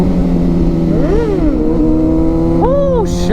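A motorcycle engine revs while being ridden, droning loud and steady with its pitch climbing and falling through two rises. A voice is heard speaking over the engine noise. The bike will not lift its front wheel in second gear.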